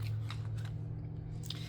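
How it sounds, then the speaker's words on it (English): Scissors trim the paper edge of a handmade no-sew journal, giving a few crisp, close snips and slides over a low, steady background hum. "I'm going to take my scissors, and I'm going to cut my edge."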